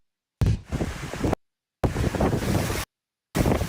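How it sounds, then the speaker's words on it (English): Strong nor'easter wind gusts at the Jersey Shore roar across the microphone in three loud, broadband bursts separated by brief silences, with no voices. "The system battering the Jersey Shore with powerful wind gusts, rain, and tidal flooding."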